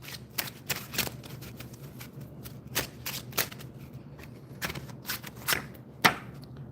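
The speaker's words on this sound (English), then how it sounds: "let's pull 2 more cards, and then we'll get to the verdict." Tarot cards are shuffled close up in a series of quick, crisp riffling slaps at an uneven rhythm, fairly quiet with no talking.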